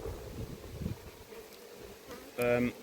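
A large honey bee colony at an apiary hive gives off a low, wavering buzz close by, swelling briefly, with one louder, sharper burst of buzzing near the end.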